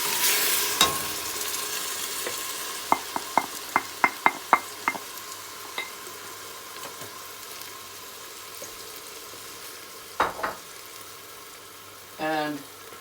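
Three grated tomatoes frying in a pan for a bean dish, a loud steady sizzle broken by a run of sharp taps and scrapes as a utensil stirs against the pan, with a few more knocks near the end.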